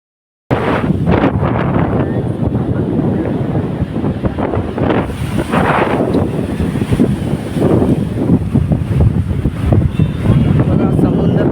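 Strong sea wind buffets the microphone at the Marine Lines seafront in Mumbai, with fast-moving seawater rushing beneath a loud, constant roar that starts abruptly and holds steady throughout.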